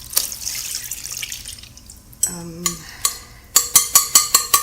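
Fresh buttermilk poured through cheesecloth, starting with a soft trickle, then a burst of splashing followed by a run of distinct, evenly spaced drips close by.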